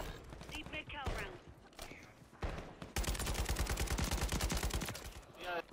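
Rapid automatic gunfire from a Blixen in the Warzone video game, a long fast burst of sharp shots, preceded by a few scattered bursts and a voice talking over the start and end.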